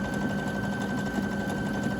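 Baby Lock Jubilant sewing machine stitching fabric, a steady fast whirring hum with a rapid even mechanical chatter, close and continuous with no talk.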